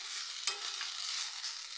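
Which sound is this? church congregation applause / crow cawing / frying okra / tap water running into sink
frying okra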